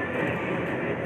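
A train at a railway platform gives a steady, loud rumble of rolling rail cars, broad and unbroken throughout the brief moment.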